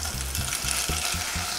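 Bacon and meat sizzle loudly in hot olive oil in a pan for a Bolognese sauce, a steady dense crackle with periodic low scraping bumps as the pieces are moved around.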